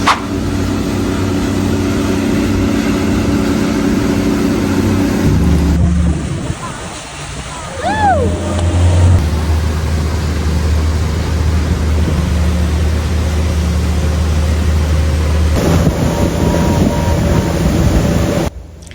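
A steady motorboat engine drone with a low rumble runs throughout on the water, pausing briefly midway, while a voice speaks over it.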